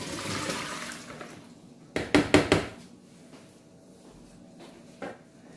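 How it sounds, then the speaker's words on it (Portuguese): Hot blanching water from vegetables is strained into a second bowl in a home kitchen: a brief, fairly close splashing pour lasting about half a second, then quiet with a faint clatter. "Deixa eu pegar uma outra vasilha que eu vou reutilizar a água. Eu vou, então, escorrer aqui dentro."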